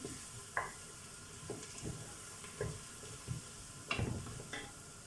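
Red pepper flakes stirred through a quietly sizzling pan of a Turkish village dish, with soft scraping strokes and light clinks scattered over a low, steady hiss, close and fairly faint.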